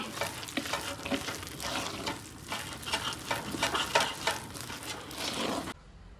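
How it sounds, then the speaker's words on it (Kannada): Urad dal vada batter with ginger garlic paste being mixed by hand, giving repeated wet, squelchy stirring strokes in an uneven rhythm, close up, ending abruptly. "ಇವಾಗ ಇಷ್ಟನ್ನು ಚೆನ್ನಾಗಿ ಮಿಕ್ಸ್ ಮಾಡ್ಕೊಳ್ಳೋಣ"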